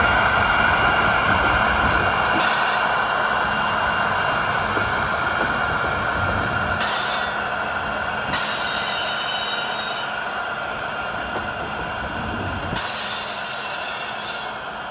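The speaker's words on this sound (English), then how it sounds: "the lead power travels under its train and exits the lower portion of the loop, continuing its descent to the valley floor" Freight train with locomotives hauling woodchip cars down a mountain loop, a steady rolling rumble of wagons with repeated bursts of high metallic wheel squeal, fairly close and without voices.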